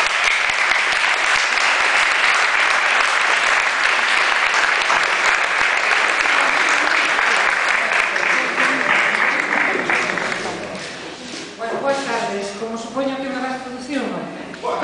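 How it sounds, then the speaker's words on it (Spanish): A gala audience gives a loud, sustained round of applause from a large crowd, fading after about ten seconds as voices and speech rise over the last claps. "un forte aplauso"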